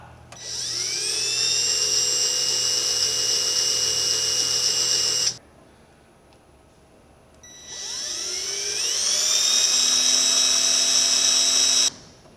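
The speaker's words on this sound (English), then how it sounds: "Now, being super careful to drill in the middle of the head, I'm just going to drill each rivet out." Two long bursts of a high-pitched power drill whining as it bites into metal rivets on an airplane, each spinning up and running steadily for several seconds, with a short quiet gap between.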